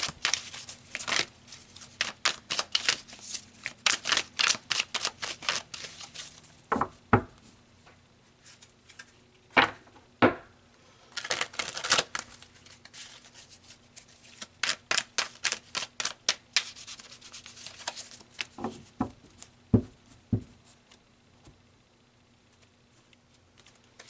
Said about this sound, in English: So let's pull some clarifiers on these cards here.